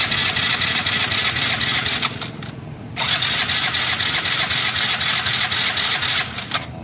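A Yamaha Mio i 125 fuel-injected scooter with an error code 39 fault cranks and runs at a buzzy idle, cuts out briefly, restarts with a rising rev, and idles again before dropping off near the end. No one speaks.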